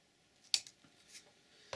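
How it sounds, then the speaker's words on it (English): Scissors snip through snowshoe weaving lace with one sharp close cut, followed by faint handling clicks and a second softer snip near the end, with no talking. "Snip it off."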